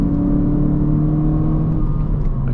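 An 11th-gen Honda Civic hatchback climbing a steep mountain road in second gear while towing, engine droning steadily under load with a whirring tone over road rumble.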